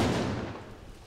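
Controlled blast of unexploded cluster bomblet duds, a loud broadband boom at the start whose rumble slowly decays over about a second with no voices.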